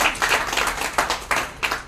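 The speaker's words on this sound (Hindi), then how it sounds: "एक अच्छी ताली बजा सकते हैं।" An audience claps together at a gathering, a steady burst of many hands at moderate loudness with a few sharper peaks, lasting nearly two seconds with no talk on top.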